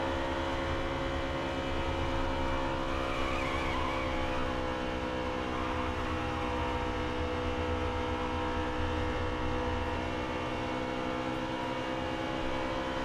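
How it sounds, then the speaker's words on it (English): Stock cars in the NASCAR Heat 3 video game race at Atlanta, a steady droning engine roar with layered tones, continuous and fairly quiet with no voices. "we got a car coming up pretty quick on us, looks like Suarez"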